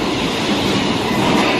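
A train rumbles steadily over a bridge on a West Bengal rail line, a loud, close, continuous roar of wheels and carriages with a faint rhythmic clatter.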